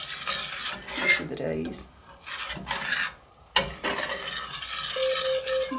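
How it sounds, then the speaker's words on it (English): Lemon pie filling stirred in a pan until thick, with a steady raspy scraping and rubbing of the spoon that runs almost throughout, broken by brief pauses and a short spoken remark. "I'm going to stir this now until it goes nice and thick and all blends in"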